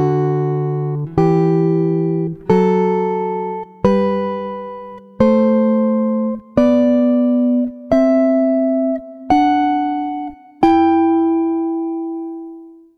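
Guitar plays two-note tenth intervals, eight plucked dyads in steady succession, each ringing and decaying before the next, clean and close with the last notes sustaining.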